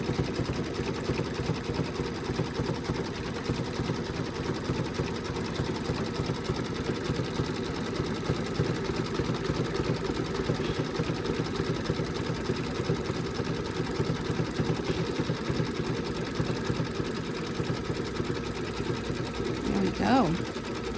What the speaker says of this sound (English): Just going to stitch it down.